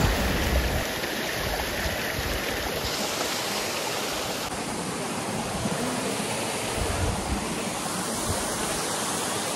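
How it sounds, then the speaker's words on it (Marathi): A monsoon waterfall near Pune roars in a dense, unbroken wash of falling water, loud and close throughout, with no talking. "आता आम्ही ह्या धबधब्यापासून जात आहे"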